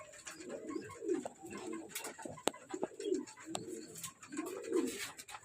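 Racing pigeons, young birds in a loft, coo in repeated soft throaty phrases, close and clear, with faint chirps between.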